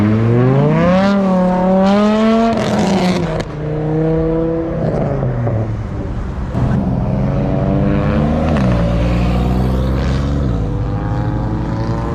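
Cars revving hard as they leave a car show, engines climbing and falling in pitch through repeated loud throttle blips and sweeps, close by and dominating, with no talk.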